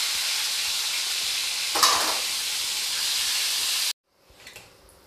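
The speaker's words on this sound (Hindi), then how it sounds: "टमाटर को दूसरी साइड से पकते हुए 4-5 सेकेंड हो गया है, अब ये फ्राई होकर बिल्कुल रेडी हो चुका है" Tomatoes fry in oil for a Bihari-style aloo tamatar dish, giving a steady, bright sizzling hiss with a brief clatter partway through, then stopping abruptly, after which faint pan noises follow.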